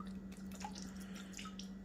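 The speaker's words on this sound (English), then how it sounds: "a few dribbles of jet dry." Rinse aid drips in a few small drops into water, set up to break the surface tension while panning gold paydirt; faint, close liquid drips over a steady low hum, with no talk.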